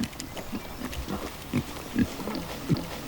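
Pigs grunt repeatedly in short, uneven bursts near an electrified fence on a farm, a close herd snuffling and oinking at moderate loudness with no talk.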